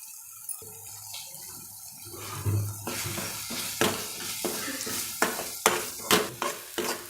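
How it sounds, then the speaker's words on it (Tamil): Ground masala paste sautéing in a pan for egg gravy, a soft sizzle with repeated sharp scrapes and stirs of a spoon, close and fairly quiet. "இந்த பேஸ்ட்டு போட்டு கொஞ்சம் வதக்கிட்டு"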